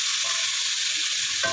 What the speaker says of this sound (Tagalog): Igisa na natin yung ating pakpak ng ating chicken.